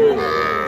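A single sustained moo from a Sahiwal heifer calf, loud and close, with no talk over it.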